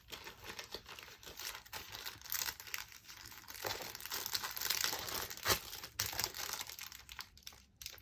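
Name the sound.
opening a packet of foam pads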